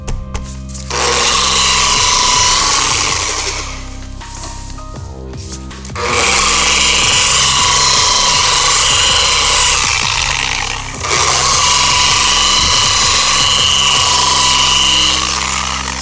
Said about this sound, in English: Got the DA here, start on 1.